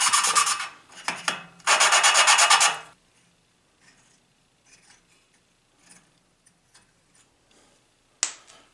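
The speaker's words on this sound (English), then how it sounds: "And there you go, valves lapped." Engine valves on a Tecumseh H60 6HP snow blower engine are lapped by hand, giving a few loud rasping rubbing strokes early on, followed by faint scattered scrapes and a sharp click near the end.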